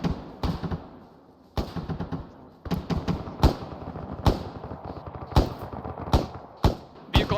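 Gunfire in a squad-training video game: a string of loud, close bursts and single sharp cracks, some clustered rapidly like automatic fire, separated by brief gaps.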